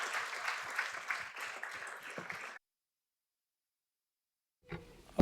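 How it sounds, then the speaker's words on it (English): Workshop audience applauding the speakers at an AI and Earth observation event: lively clapping for a couple of seconds, then abrupt silence, followed by a faint burst of room noise near the end. "please join me for a huge round of applause for our speakers"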